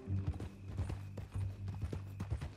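Horse hooves clip-clop in a video game, an uneven run of close hoof strikes at walking pace, fairly quiet and without speech.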